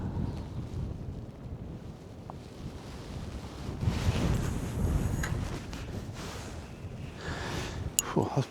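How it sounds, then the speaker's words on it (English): Gusty wind buffets the microphone at a carp fishing lake, a rough, rumbling roar that swells and fades in waves, with a few brief knocks and handling sounds. "Slow down, wind."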